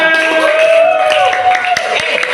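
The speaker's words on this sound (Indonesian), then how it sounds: "Tepuk tangan buat kalian semua." Students in a classroom clap briefly and loosely under a sustained musical tone, with scattered claps and some voices mixed in.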